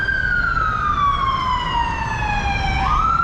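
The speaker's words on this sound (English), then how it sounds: "double deckers, ambulance bustling by" An ambulance siren wails past in rush-hour traffic on Fifth Avenue in Manhattan, a loud, close continuous tone sliding slowly downward before jumping back up, over a rumbling bed of city street noise.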